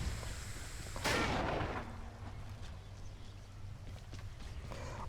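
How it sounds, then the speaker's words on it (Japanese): A single heavy gunshot from a weapon in the action game Hades, a sharp loud blast that rings out briefly and then fades into low game ambience. "一発撃ってリロード"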